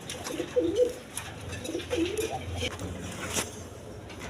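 An Indian Lotan pigeon, a large bird with feathered feet, coos in low repeated bursts at close range, with faint background noise and some nearby voice.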